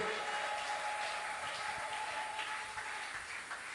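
Church congregation clapping during a Sunday evangelical worship service, a steady dense wash of applause throughout with a faint sustained tone underneath and no clear talk.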